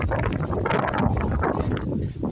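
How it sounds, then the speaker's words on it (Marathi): Strong wind buffeting the microphone in loud, continuous gusts on Ajoba Fort in the Sahyadri mountains, roaring close and unbroken. "सोसाट्याचा वारा इतका चालू आहे बघा"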